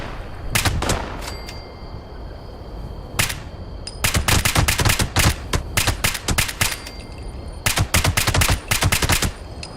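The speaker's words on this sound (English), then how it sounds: "Suppressed gunfire and bad intentions." Suppressed gunfire in the video game Fallout 76: close, loud bursts of rapid muffled shots, a few short volleys early, then longer sustained strings of fire separated by brief pauses.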